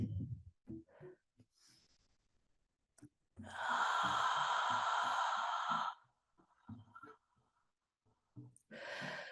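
During a yoga pose, one long, deep, audible exhale lasts a few seconds and stands out clearly. Softer breaths and small rustles come before and after in a quiet room.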